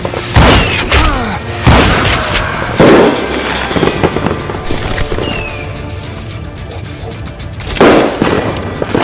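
Gunfire in the Western shooter video game Call of Juarez Gunslinger comes as loud, sharp shots and short bursts, spaced irregularly with booming reports and echoing tails.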